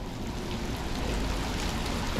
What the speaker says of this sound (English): let's walk out in the rain again